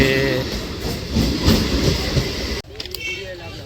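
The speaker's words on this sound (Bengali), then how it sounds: "ট্রেন চলে এসছে" A train rumbles and clatters loudly close by, a steady rolling roar that cuts off abruptly, leaving quieter station ambience with faint clicks.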